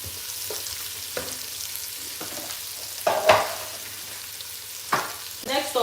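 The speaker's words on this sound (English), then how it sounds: "Let me show you guys what the onions looks like. So just keep on stirring." Onions frying in a pan while being stirred: a continuous sizzle with occasional louder scrapes and clatters from the spoon, close by, with no talking.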